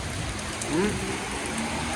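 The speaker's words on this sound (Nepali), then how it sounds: "पानी पर्यो झमझम, पानी पर्यो झमझम" Steady rain hisses evenly throughout, with a brief low murmur partway through.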